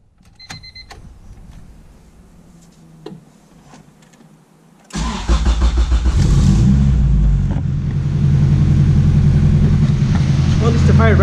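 After a few seconds of quiet clicks and small handling noises, a car engine suddenly cranks and fires up, then settles into a loud, steady close-up idle that keeps running to the end.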